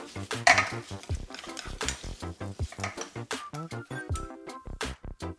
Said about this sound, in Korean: 촉촉하게 볶아서 불을 꺼줬다.